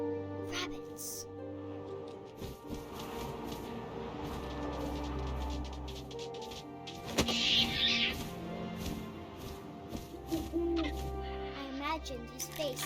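Owl hooting in the narrative video game What Remains of Edith Finch, a brief hoot standing out mid-clip over wind-like ambience, a steady background drone and a narrator's voice.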